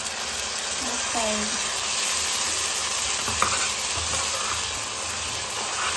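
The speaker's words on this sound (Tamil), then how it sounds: "இப்போ வந்து இந்த டொமேட்டோ பியூரி ஆட் பண்ணிக்கலாம்" Tomato puree stirred into a hot frying pan for fish curry, giving a steady, loud sizzle and hiss with scraping stirs throughout, while someone speaks over the cooking.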